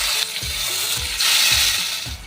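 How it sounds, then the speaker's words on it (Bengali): Spice-marinated meat frying in hot white oil, a loud steady sizzle with several soft rhythmic scraping knocks of stirring in the pan. "আর এই মাখানো মাংসগুলো যতটা পারবো এই মশলাটা ঝেড়ে আমি ভেজে নেব।"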